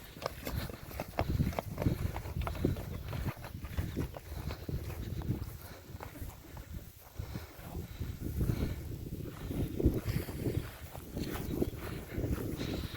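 Horses, several named mares, walking with soft, irregular hoof clip-clops on the ground, fairly quiet and steady, with no talk over them.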